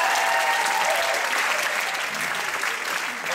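A show audience claps in a sustained round of applause near the end of the performance, with dense, even clapping that fades slightly toward the end.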